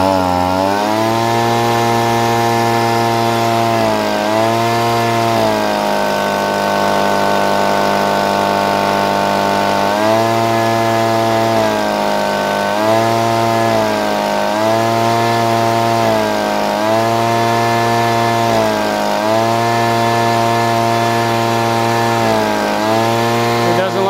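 Stihl leaf blower engine running after a carburetor repair, a loud buzzing two-stroke note that repeatedly rises and drops in throttle bursts between steadier idle stretches, heard close up on its own.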